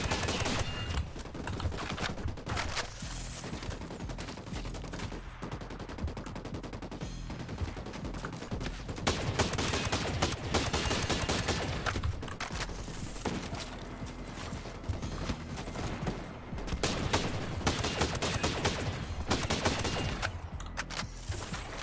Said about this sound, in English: Firing at the enemy.